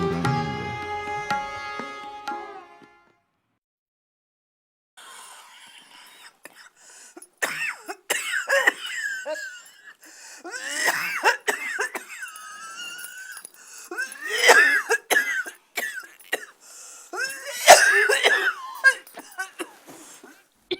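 A brief tonal sound, then a pause, then repeated coughing fits, some wheezy and rasping, coming in bursts nearby over a faint background.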